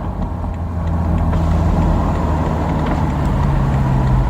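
A BMW X6 M F86 engine accelerates through first and second gear, a loud, steady, deep engine drone that builds slightly in pitch, heard from inside with some road and wind noise.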